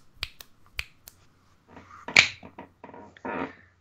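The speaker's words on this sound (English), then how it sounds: "Are we doing that now? Finger snaps?" Several sharp finger snaps, a few spaced crisp clicks at first, then a quicker cluster of snaps with louder bursts near the end, close and dry with no talking.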